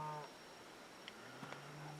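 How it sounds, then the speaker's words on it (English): Cattle in a field before sunrise: a faint, distant low moo at the start and another near the end, with quiet ambience between. "those stinking cows just have to be over here"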